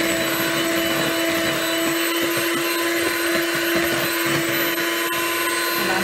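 An electric mixer runs loud and steady, whirring without pause as it beats cooked sweet potatoes for sweet potato squares.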